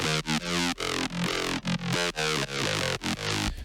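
Synth line squashed by a Serum multiband compressor in an OTT-like style, with raspy top end; loud, dense chopped phrases pulsing in short rhythmic bursts with brief gaps, no talking.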